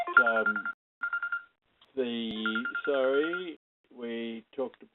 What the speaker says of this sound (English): somebody forgot to turn off their phone.